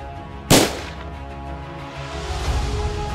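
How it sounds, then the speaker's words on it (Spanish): A single sharp gunshot rings out from a zombie-apocalypse story scene, a loud broadband crack followed by a short decaying tail over a low rumbling background. "Un disparo."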